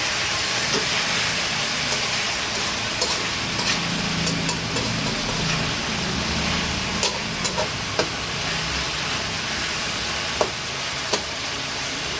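Broth simmers in a pan of tofu, giving a steady, close hiss and bubbling sizzle that continues throughout, dotted with a few soft clicks and taps.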